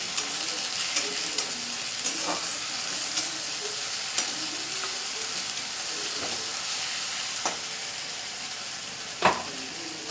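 Ginger paste fries in a hot pan with a steady close sizzle, broken by occasional sharp clicks and scrapes of a spatula stirring it.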